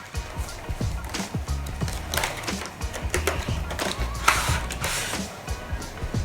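A magnetic eyelash kit is unboxed close up, with irregular crinkling, rustling packaging and soft plastic clicks and handling taps throughout. No one speaks.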